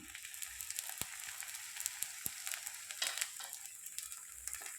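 Oil being poured into a heated pan while cooking breakfast, a quiet steady hiss and sizzle with scattered light crackles and a few sharp taps of a utensil.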